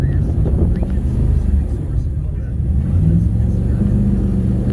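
Jet boat engine on a 2004 North River Commander with a 212 pump, held steady and loud as it shifts between forward and reverse, a continuous low rumble with faint talking underneath.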